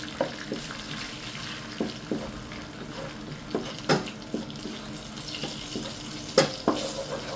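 Curry leaves, turmeric and chilli powder are sautéed in a pan for fish thawa masala. A quiet sizzle runs throughout, with scattered spoon scrapes and stirring clicks and no talking.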